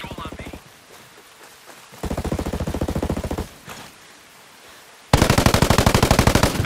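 Rapid automatic gunfire in a tactical shooter video game, loud close bursts of evenly spaced shots in three stretches, the last the heaviest, with radio-style voice lines.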